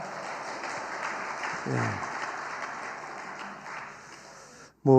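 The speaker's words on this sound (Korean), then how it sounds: "우리 격려의 박수 한번 보내도록 하겠습니다" A church congregation claps steadily during a teachers' dedication worship service. The applause is moderately faint with a brief voice partway through, then fades out before a louder voice cuts in at the end.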